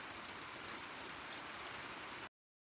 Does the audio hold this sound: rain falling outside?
yes